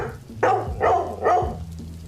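A dog barks at CCTV footage playing on a TV screen in a hall: three loud, evenly spaced barks over a low steady background hum.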